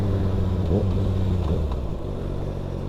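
Yamaha R7 motorcycle engine running, a loud, close rumble with brief revving swells in the first half before settling into a steadier drone.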